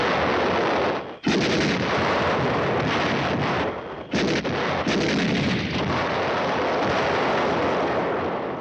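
Tank and artillery gunfire in a war film, a dense barrage of heavy booming shots and rapid machine-gun fire, loud and continuous with brief dips, no speech over it.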